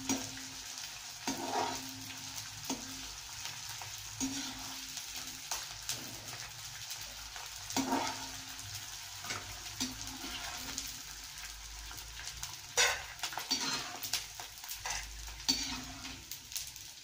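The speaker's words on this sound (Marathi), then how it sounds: "थोडा थोडा करून डिंक तळून घ्या." Edible gum (dink) fried bit by bit in hot ghee over a medium gas flame for winter jaggery-fenugreek laddoos gives a steady close crackling sizzle, broken by occasional scrapes and clinks of stirring, with no talking.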